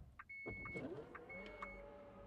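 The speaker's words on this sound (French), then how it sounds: "On rouvre le coffre." The powered boot tailgate of an XPENG G9 electric car opens with a soft whirring motor and a couple of quiet clicks and beeps, close but faint.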